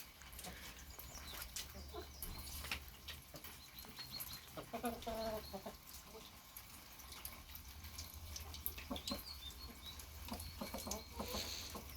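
Faint, scattered clucks and chirps from moulting chickens on a rainy morning mix with rustling and pattering, with a brief murmur of talk partway through.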